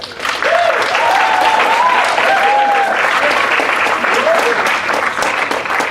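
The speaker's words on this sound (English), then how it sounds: "I just want to give you a round of applause first, Jason" A crowd at a student leadership academy workshop gives Jason a loud, continuous round of applause, thick steady clapping mixed with cheering voices and whoops carrying over it.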